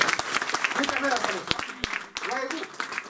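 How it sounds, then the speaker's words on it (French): Church congregation clapping and acclaiming in a French-language service, applause mixed with voices and shouts, sharp claps standing out amid a lively crowd. "Donnons une acclamation au Seigneur."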